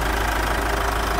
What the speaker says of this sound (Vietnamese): Và đây là tiếng động cơ đang hoạt động, toàn bộ động cơ chạy khá là êm.